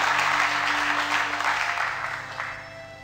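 A church congregation applauds steadily, a dense patter of many hands filling the room and gradually fading toward the end.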